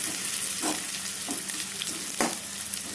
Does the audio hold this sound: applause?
no